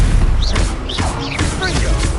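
Magical spell effects from a Harry Potter video game duel whoosh and crackle in quick succession, loud and layered over a dense game soundtrack, with repeated swooping tones.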